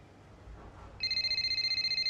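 A telephone rings for an incoming call, a steady electronic trilling tone that starts abruptly partway through and repeats in a fast pulsing pattern over quiet room noise.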